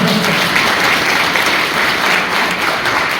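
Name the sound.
audience applause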